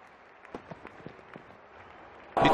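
Cricket crowd at an England vs Sri Lanka Test erupts in a sudden loud burst of cheering and applause for a six, rising sharply at the end after quieter scattered claps and murmurs.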